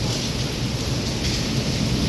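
Heavy rain pours steadily in Wankaner during a thunderstorm, a dense continuous hiss with low rumbling beneath it, loud and unbroken without speech.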